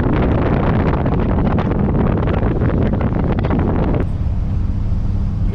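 Wind blows hard across an open farm field, a loud continuous roar buffeting the microphone, easing slightly near the end with a low rumble underneath.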